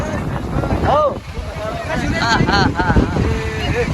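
Strong wind blows at the seashore in Anjar, Kutch, buffeting the microphone in a loud continuous roar while people talk and call out over it.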